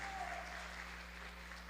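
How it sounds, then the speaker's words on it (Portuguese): A women's gathering claps for the cook with a steady wash of applause, faint and continuous under a low constant hum, with voices mixed in. "Vamos dar um aplauso pro cozinheiro, mulherada?"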